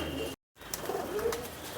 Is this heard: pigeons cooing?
yes